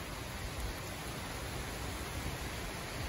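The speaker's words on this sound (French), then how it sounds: "ça y est, ça commence à pleuvoir" Steady, soft hiss of rain falling, an even wash of noise with no other sounds.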